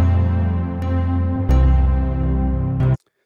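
Recorded piano played back in the Unify 2 software: sustained, loud chords change at about 0.8 and 1.5 seconds and ring richly before cutting off abruptly near the three-second mark, with no voices.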